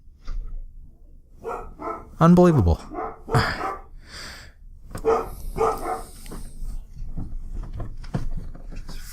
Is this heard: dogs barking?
yes